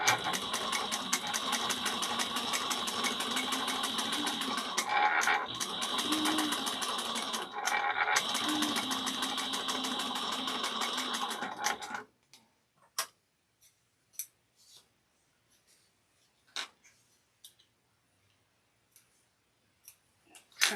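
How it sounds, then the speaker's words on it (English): A sewing machine top stitches a small bowler bag at one-eighth inch, running in a steady fast mechanical rattle for about twelve seconds with brief pauses, then stopping, followed by scattered light clicks and handling taps. "we're going to top stitch it at 1/8 of an inch"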